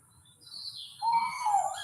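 Tawny owl call out in the Hungarian or Slovak countryside at night, a short, faint, sneeze-like bird note repeated a couple of times at a distance, with no voices.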